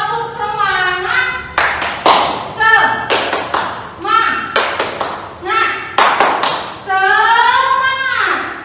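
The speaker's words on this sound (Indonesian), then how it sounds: "Namanya tepuk semangat." A class of children claps the 'tepuk semangat' rhythm, sharp group claps in quick bursts alternating with chanted voices, loud and close in a classroom.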